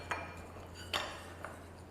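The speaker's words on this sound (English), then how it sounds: "Keep stirring" A spoon clinks three times against a cup while stirring instant coffee and chocolate powder, light separate taps over a low hum.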